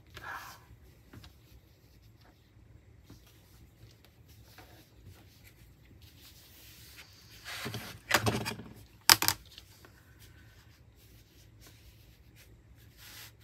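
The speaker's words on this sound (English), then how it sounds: "we need it to be 16 and a half wide. So let's cut that up." Fabric being cut to width for a sunflower pillow: a quiet room, then a short cluster of crisp, close cutting and rustling sounds about two-thirds of the way through before things settle back to near silence.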